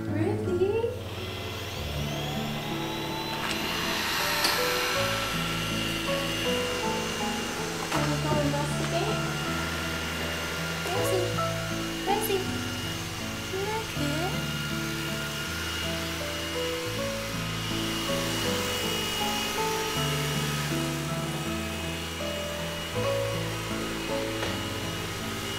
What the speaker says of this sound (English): give the rest of the house a really good vacuum, which is gonna be this little guy's job